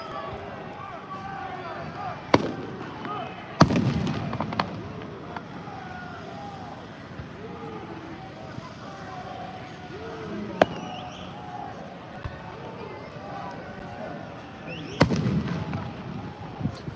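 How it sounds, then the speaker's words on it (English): Fireworks going off early at an outdoor evening gathering with yelling crowds: a few sharp, distant bangs scattered over a dense, constant background of crowd noise and chatter. "I'm still kind of surprised by how early these fireworks are."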